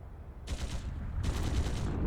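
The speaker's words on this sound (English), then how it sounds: "Gunshots from the next district." Rolling bursts of in-game gunfire from the Trails through Daybreak 2 video game during a coup, loud and dense, coming in two waves over a low rumbling background.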